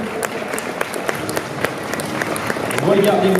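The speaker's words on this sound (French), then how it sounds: "je vous demande encore une fois de l'applaudir" Audience applause for a cosplayer at a cosplay show, with brisk crowd clapping and sharp individual claps that runs throughout, then music and a voice come in near the end.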